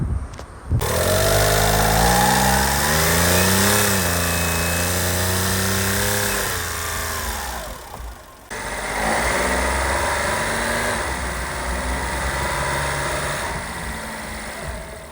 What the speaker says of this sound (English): I'll show you the differences between how a good turbo and a bad turbo sound